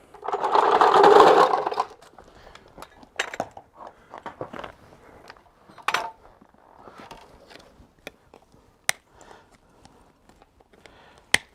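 Farrier clinching horseshoe nails on a hoof: after an opening burst of broadband noise, a series of sharp, close metallic taps and clicks follows at irregular intervals.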